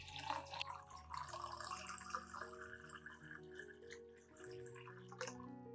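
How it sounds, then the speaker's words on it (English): Clean room-temperature water, about a liter, is poured into a glass, making a steady trickling and bubbling pour with shifting tones as the glass fills, quiet and close with no talking. "Pour in about 1 liter of clean, room temperature water."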